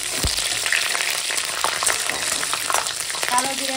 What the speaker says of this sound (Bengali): এখন দিয়ে দিলাম কাঁচা লঙ্কা চেরা আর দিয়ে দিলাম কালো